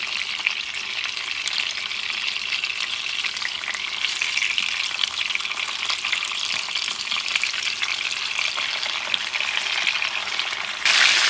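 Chicken pieces fry skin side down in hot oil for a sweet lemon chicken, a loud continuous crackling sizzle that holds steady and close without any talk.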